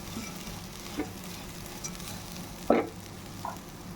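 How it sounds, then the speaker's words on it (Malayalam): Spinach and broken wheat sautéing in a pan: a faint, low sizzle with a few scattered clicks and a louder scrape or clatter near the end, no talking. "ചീര ഇട്ട് ഒന്ന് വഴന്നിട്ട് നമുക്ക് ഈ ബ്രോക്കൺ വീറ്റ് ഇതിനകത്തിടാം."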